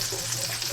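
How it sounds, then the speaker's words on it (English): Lamb sizzles in a hot pan, a dense, steady crackle and hiss heard up close with no talk. "We're just going to take out our lamb, which is sizzling up really nice."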